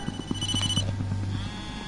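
A mobile phone rings in the horror video game Blair Witch, with a repeated electronic ringtone pattern over a low hum and lasting nearly two seconds.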